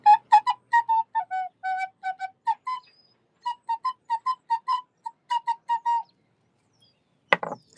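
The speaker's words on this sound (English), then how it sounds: "I've tried the summoning whistle on one of the other buddies." A series of short, bright whistle tones in a quick rhythmic pattern, followed by a brief rustling burst after a pause.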